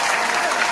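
Steady, dense applause from a studio audience at a live nerd-culture roundtable show, loud and continuous throughout with no talk over it.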